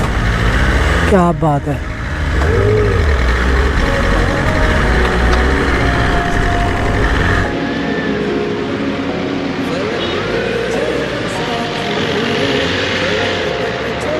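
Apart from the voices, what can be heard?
BMW S1000RR superbike engine sound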